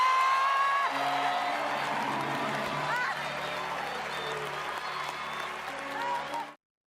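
Oscars audience applauding Jamie Lee Curtis's Best Supporting Actress win, a dense, steady wash of clapping with music and voices mixed in, holding loud throughout before cutting off abruptly.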